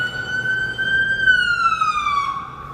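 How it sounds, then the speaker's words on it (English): An emergency vehicle siren wails along a downtown Toronto street at night, a single loud, steady tone that holds and then slowly falls in pitch as it passes, with faint traffic rumble beneath. "Another siren."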